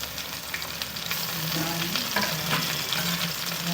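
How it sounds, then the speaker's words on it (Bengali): Onion, ginger paste, garlic paste and chopped tomato fry together for a chicken curry, making a dense, continuous sizzle under scraping stirs. It is close and fairly loud, with no voices. "সব একসঙ্গে ভালো করে ভেজে নেব"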